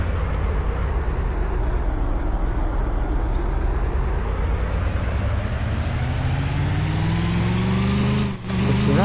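A fake Crown Victoria car in the Roblox video game drives with a loud, continuous engine roar that climbs steadily in pitch as it accelerates, with a short dip near the end.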